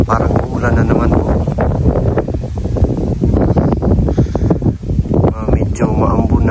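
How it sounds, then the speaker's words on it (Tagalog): Strong outdoor wind gusting and buffeting the microphone, loud and close, with a person talking over it throughout. "Saka mahangin."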